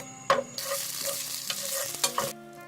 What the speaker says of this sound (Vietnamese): cho vào 1 muỗng canh dầu, cho vào 1 muỗng canh hành tỏi cùng với sả đập dập,